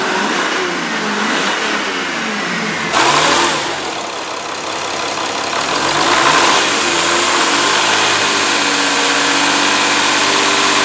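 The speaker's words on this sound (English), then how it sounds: "I'm literally taking this bolt out while the engine is running, so we can preserve every last little bit of heat." A turbo diesel Mercedes engine with a leaking injector seal runs close by, a steady mechanical clatter with a couple of surges in revs and a slight knock throughout, with no talking.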